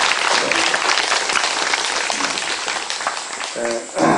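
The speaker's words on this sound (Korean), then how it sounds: "함께 해주신 모든 옆에 있는 분들을 위해서 여러분 박수 한번 보내주십시오" A congregation at a Catholic thanksgiving Mass at Baeron Shrine applauds in a dense, steady round of clapping that tapers near the end, where a brief tone or voice surfaces.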